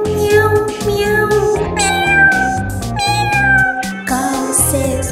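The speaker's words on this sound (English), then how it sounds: "Cat says, meow, meow, meow." A cat meows several times over a bouncy children's nursery-rhyme music track, the cries sitting clear and close above the steady rhythmic backing.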